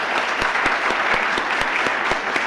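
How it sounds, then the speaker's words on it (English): Audience at a university provost awards ceremony applauding the faculty, a brief, dense burst of steady clapping with sharp individual claps standing out in a regular pattern. "Let's give them a round of applause."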